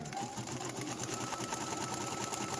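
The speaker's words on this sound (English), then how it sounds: "We're going to push start and stop, and it's going to stitch out Beatrice's name." Embroidery sewing machine stitching out an appliqué name on a quilt block, a steady fast mechanical whirring with regular needle clatter, continuous and close.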